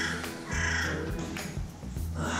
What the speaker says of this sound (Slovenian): samo še ptički se slišijo